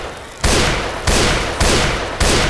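Gunfire in the zombie shooter game Left 4 Dead: four loud, close blasts about half a second apart, each a sharp crack that decays slowly, with no talk over them.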